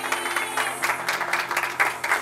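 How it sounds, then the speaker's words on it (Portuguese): An audience applauds at a live event, with fairly close clapping in uneven bursts over a steady background hum and no clear talk. "Uma salva de palmas, galera!"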